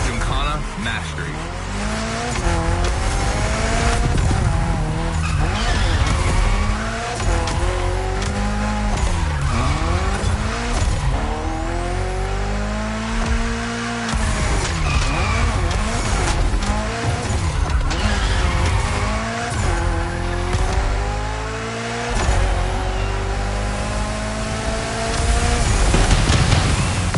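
In The Crew Motorfest, a car drifts through a Gymkhana run with engine revs swooping up and down and long tire squeals, a dense, continuous racing roar that carries on throughout.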